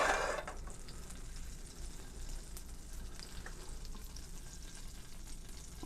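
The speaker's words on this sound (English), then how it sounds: "you can hear that sizzling already" Chicken cutlets sizzle steadily in a hot pan for a quick sear, a continuous crackling fry with a brief louder burst at the start and no talking.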